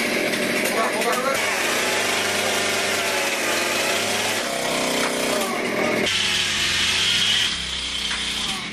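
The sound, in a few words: chainsaw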